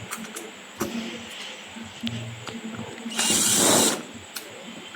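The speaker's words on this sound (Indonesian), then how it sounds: "Kita akan membongkarnya baut satu persatu." Power screwdriver whirring bolts loose from the power supply board of an LG Flatron E2241T monitor, a short buzzing burst amid small clicks and handling knocks, close by.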